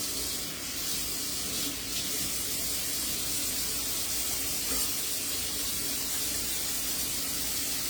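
Tap water runs steadily into a kitchen sink as something is rinsed off during home cooking, a continuous broadband splashing hiss that holds at an even level throughout with no talking.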